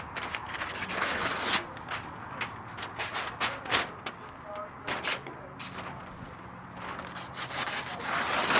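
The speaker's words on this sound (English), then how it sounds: "And then we're just gonna cut this excess tie-back off" A tool cuts off excess tie-back material at a tiny house window, making a run of rough rubbing, sawing strokes with sharp snaps between them, close up and fairly loud, with a voice speaking partway through.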